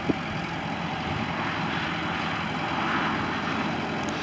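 A 2014 Kubota M8560 four-wheel-drive diesel tractor with a quick-attach loader and about 2,800 hours idles steadily, a low, even rumble with no one speaking.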